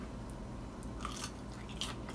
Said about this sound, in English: It is crunchy. Cheese melted inside.